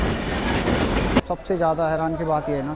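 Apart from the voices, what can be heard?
train at Howrah Junction railway station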